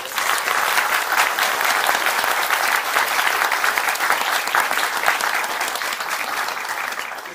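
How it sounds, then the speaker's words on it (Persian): An audience at an astrophotography lecture during a cosmology conference claps loudly and steadily, dense applause sustained for several seconds before easing slightly at the end. "از شما میخوام مادرمو تشویق کنید"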